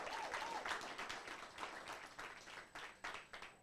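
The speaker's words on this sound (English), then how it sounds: "A round of applause for all our finalists" Soft, continuous applause from the audience at a township business strategy workshop in Bochabelo, Free State, for six competition finalists, a faint wash of clapping with a few sharper claps near the end.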